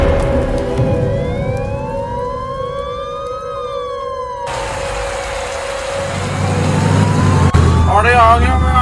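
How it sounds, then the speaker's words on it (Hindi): A wailing ambulance siren in a Minecraft horror hospital game rises and falls over steady engine drone, with game-like background sounds and a brief sharp click near the end. "जल्दी लेकर आओ एम्बुलेंस।"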